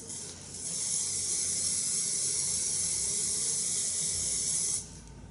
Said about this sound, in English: I'm just going to start kind of spraying in circular motions